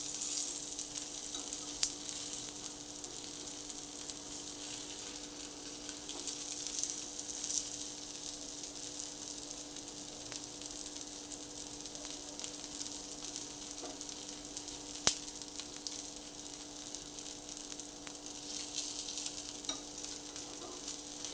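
Leftover-rice appam fry in oil in a pan, a soft, continuous sizzle with a bright crackle running steadily, punctuated by occasional faint ticks and scrapes, no voices.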